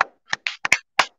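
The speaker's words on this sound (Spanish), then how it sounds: "Un aplauso para Gustavo Ponce, ¿no?" Hands clapping during a live football talk stream, about six sharp claps in a loose, uneven rhythm, close and dry with silence between them.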